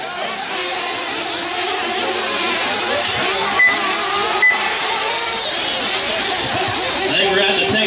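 RC18 truggies race on a track in a Truggy A-Main at an RC Pro Series event at ARCOR, their steady, dense engine buzz running throughout and mixed with crowd babble and voices.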